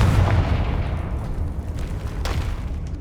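A Confringo fire spell blasts in Hogwarts Legacy, a deep booming explosion that rumbles loudly from the start and slowly decays over about three seconds, with a faint pop near the end.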